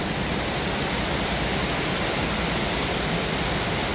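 Steady heavy rain in Mueang district, Uttaradit, a loud, unbroken wash of hiss that holds at one level for several seconds, with no one talking.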